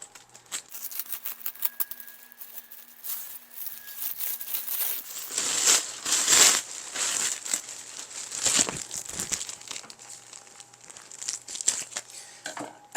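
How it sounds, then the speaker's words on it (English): A plastic trash bag cut open and crinkled by hand, a busy run of crackling rustles and sharp snips that peak in the middle, close and fairly loud, with no talking. "So I'm just going to cut open the trash bag."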